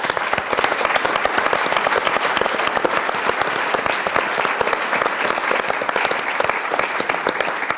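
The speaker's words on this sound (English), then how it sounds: "I think they all deserve a round of applause." Loud, dense applause from a conference audience at a grasslands session honoring people seated on stage, a continuous close wash of many hands clapping throughout.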